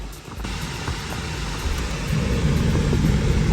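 A Tesla electric car accelerating hard, a steady rising road and tyre rush with low whirring hum that grows louder toward the end, no voices.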